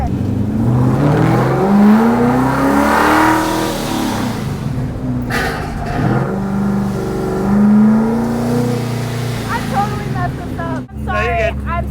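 A car drifting around cones with the handbrake pulled: the engine revs rise and fall loudly with a rising whine, tyres scrub near the end, and people talk over it throughout.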